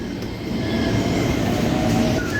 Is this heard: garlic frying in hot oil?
no